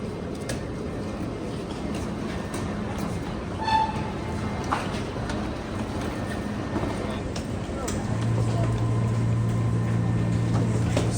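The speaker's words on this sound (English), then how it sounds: "This train is so long, my days. See how bloody long it was?" A long Eurostar train between Amsterdam and London rumbles steadily past, a continuous rolling drone with faint rail clatter, heard from close by over the whole stretch.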